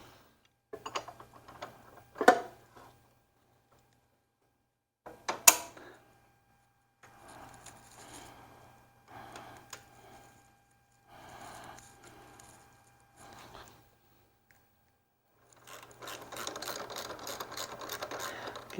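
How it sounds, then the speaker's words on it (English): Bolts being tightened by hand on a 20-inch California Trimmer RL20H handle extension kit, heard as short bursts of ratcheting clicks and metallic ticks separated by pauses, ending in a denser stretch of rapid clicking, close and fairly quiet. "Locking down these bolts, just make sure I got them nice and tight."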